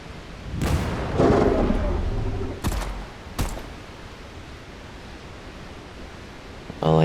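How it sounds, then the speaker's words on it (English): An in-game grenade blast at a dam goes off as a sharp, heavy boom, followed by a second crack and a fading rumble under light talk. "Let's see if I can aim this grenade properly."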